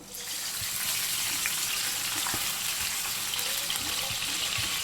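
Soaked, washed dried mettallu fish frying lightly in hot oil, a dense continuous sizzle that stays even and fairly loud throughout, with no voices.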